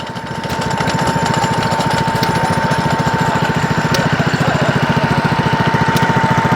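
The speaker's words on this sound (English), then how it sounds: "We got stationary engines." A stationary engine at an outdoor spring fair in Laughton, East Sussex chugs nearby, loud and steady, its rapid regular firing beats holding an even rhythm throughout.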